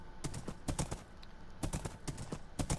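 Horse hooves clip-clop in the Minecraft video game on PS4 while riding, quick clustered hoofbeats in rhythmic bursts, close and clear with no talking.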